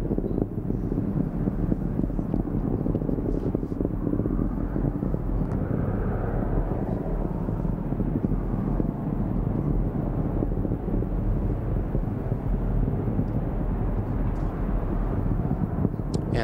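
SpaceX Falcon 9 rocket with nine Merlin engines roars in flight about ninety seconds after launch on the CRS-14 Dragon mission, a steady, dense, crackling low rumble throughout.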